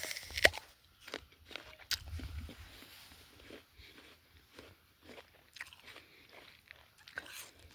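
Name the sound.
biting into a crunchy apple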